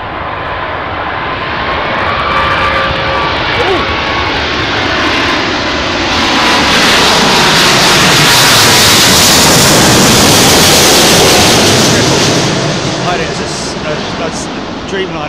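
A Boeing 787 Dreamliner lands on runway 27L at London Heathrow in strong wind, a loud, broad engine roar that swells to a peak mid-clip and then eases off, with wind noise throughout.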